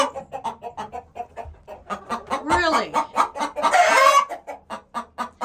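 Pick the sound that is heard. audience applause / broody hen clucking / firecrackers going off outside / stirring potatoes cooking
broody hen clucking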